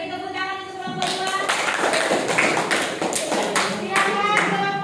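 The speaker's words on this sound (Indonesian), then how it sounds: "beri tepuk tangan untuk kelompok 2" A classroom audience claps for a student group after its presentation, a dense patter of hands that starts about a second in and continues steadily under a talking voice.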